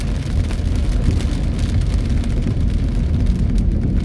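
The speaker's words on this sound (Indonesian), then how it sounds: "Begitu malam gerimis, ternyata gerimisnya sampai sekarang." Steady morning drizzle blends with continuous road traffic during a long jam, a dense, even wash of rain and engine rumble with no clear individual events.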